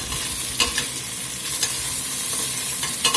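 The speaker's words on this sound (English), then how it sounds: "Go through here and try to bust some of this fine up and get it out of the pot, along with our browned up" A spoon scraping browned meat and fond across the bottom of a pot for grillades, loud steady sizzling with a few distinct scrapes, close up with no talking.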